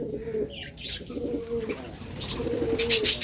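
Pet budgerigars in an aviary with clay nesting pots, giving soft repeated cooing calls in short phrases with a few sharp chirps near the end, fairly close and clear.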